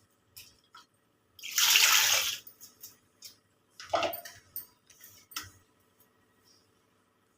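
Water is poured into fish curry masala in a pan, one close, sloshing pour lasting about a second and a half, followed by scattered light taps, clinks and small splashes in otherwise quiet surroundings.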